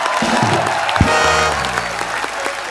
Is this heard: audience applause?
yes